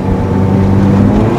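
A 2003 Honda Civic accelerates with a loud, steady engine drone and low rumble, heard up close and without any talking.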